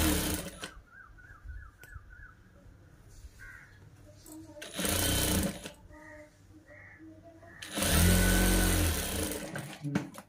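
A sewing machine runs in several loud bursts, stitching a side seam of a long frock made from an old sari, with quieter pauses and talk in between.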